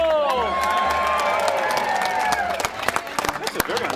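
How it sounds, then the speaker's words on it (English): Studio audience on a televised football show clapping in an odd, uneven pattern, a crowd of hands and cheering heard close, with voices talking over it. "That's a very unusual clapping in..."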